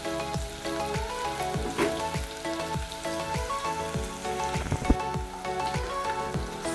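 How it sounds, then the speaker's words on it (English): Arrowroot (nduma) pieces fry in a pan at moderate heat, a close, continuous crackling sizzle with rapid popping spatters under steady background music. "You place them into the pan. Let them cook for about a minute."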